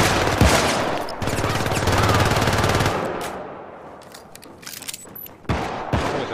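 Rapid automatic gunfire in Syndicate co-op combat, loud close bursts of machine-gun fire for the first few seconds, then scattered single shots and impacts as the fighting thins out.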